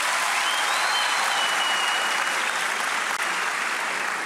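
Dense applause from a studio audience at a Turkish talent show fills four seconds at a constant, loud level, with a whistle or faint voice briefly audible above the clapping.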